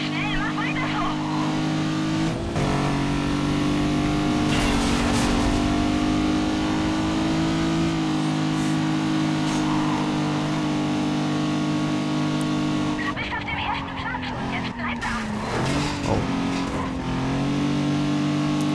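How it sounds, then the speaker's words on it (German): A car in Need for Speed Carbon accelerates hard on nitro boost, its engine roaring loud and close with a sustained rising drone and gear shifts, while a voice talks over it. "Nitro, immer nur Nitro geben."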